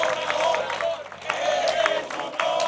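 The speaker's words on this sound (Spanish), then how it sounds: "le enviamos un aplauso desde aquí con todo cariño hasta Palenque" A crowd claps and cheers in a steady burst of applause, with voices mixed into the noise throughout.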